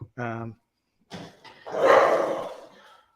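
A dog barks in short bursts as it chases a cat indoors, followed by a louder, noisy scuffle, with people talking nearby.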